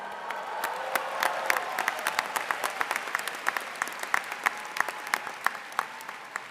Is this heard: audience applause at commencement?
yes